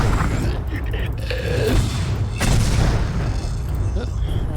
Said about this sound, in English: Let's just mortar those guys over there.